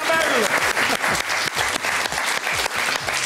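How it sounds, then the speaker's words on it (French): Loud applause from a talent-show audience cheering a returning contestant, continuous hand-clapping with some voices faintly mixed underneath. "Allez, on l'applaudit encore une fois"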